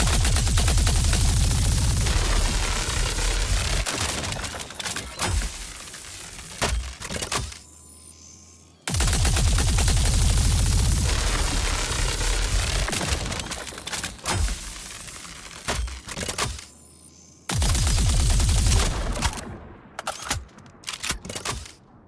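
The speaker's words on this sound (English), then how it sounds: "So the Volt rifle has a very nice sound to it." Volt rifle firing in Star Citizen: three long, loud bursts of rapid cracking shots, each broken by short pauses, with a few sharp single reports trailing after the bursts.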